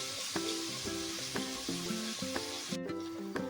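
Four green chillies sizzle in hot oil in a pan with onions while cooking Ambur chicken biryani, a steady close fry hiss broken by regular stirring clinks.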